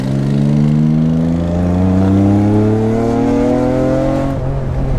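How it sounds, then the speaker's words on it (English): A Honda NSX, rebuilt from a junkyard car, driven hard at speed, its engine note climbing steadily through the revs in a loud, continuous close-up drone with tire and road noise underneath. "the driving experience on the NSX is honestly better than the Supra"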